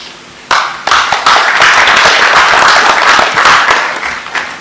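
An audience at the Kenya-Poland economic forum breaks into loud, sustained applause, dense hand clapping that starts abruptly and continues for several seconds before thinning slightly at the end.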